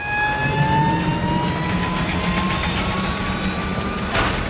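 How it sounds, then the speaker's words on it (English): A rescue aircraft taxiing for departure toward the runway, its engine giving a loud, steady drone with a high whine that slowly climbs in pitch. "The Lifesaver 23 is taxi for departure runway 36."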